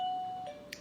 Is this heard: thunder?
no